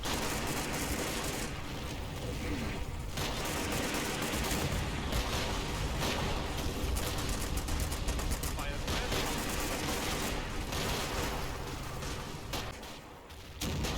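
Dense, continuous bursts of gunfire and distant booms roll on without a break, loud and layered like a battle scene, from the war game Combat Mission as sappers advance under fire at Monte Cassino.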